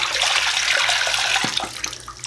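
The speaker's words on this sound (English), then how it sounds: "you want to make sure you are washing the film with water until it completely runs clear in the sink" Tap water runs steadily into a sink while color film is rinsed during home developing, a continuous close splashing hiss that thins slightly near the end with a few small drips and splashes.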